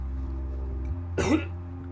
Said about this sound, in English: And he kind of coughs.